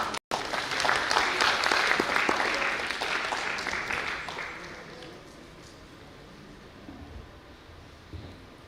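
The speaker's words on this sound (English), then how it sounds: "A big round of applause to her." Audience applause at a children's education brand launch event in Bengaluru, a full crowd clapping loudly at first and then gradually thinning and fading into quieter room noise by the end.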